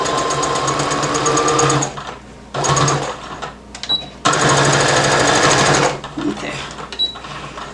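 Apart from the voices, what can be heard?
sewing machine stitching in the ditch on a romper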